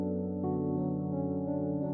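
Music generated by AI and played on MIDI instruments, a steady layered tone of sustained synthetic notes at moderate level with no voices.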